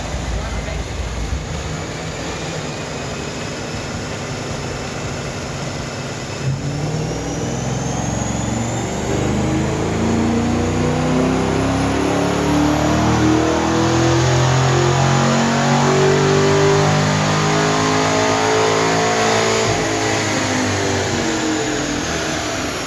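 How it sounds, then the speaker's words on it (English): A customer's new car runs a dyno baseline pull, its engine revving up steadily and loudly with rising pitch over about twenty seconds under constant mechanical drone, close and dominant throughout. "we are going to dyno the customer's new car to give them a good baseline and see what kind of power she's starting from"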